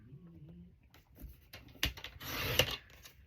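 Paper being cut to size on a trimmer for a Christmas glue book, heard as brief sliding, rasping strokes that build to a louder scrape near the end, close by with no talking.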